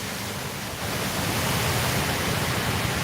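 Steady, dense hiss of heavy flooding rain in Ban Chang, Rayong, Thailand, broadband and continuous, swelling slightly louder after the first second, with no voices.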